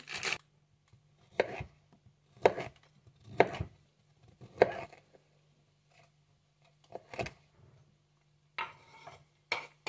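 Knife chopping broccoli on a cutting board in short bursts of quick taps, separated by pauses, with a faint steady hum underneath.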